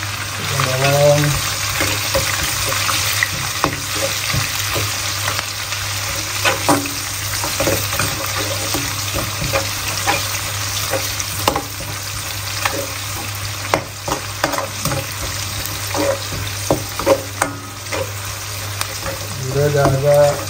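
Onions sautéing in spicy sambal sizzle loudly and continuously up close, with frequent spatula scrapes and clacks against the pan over a low background hum.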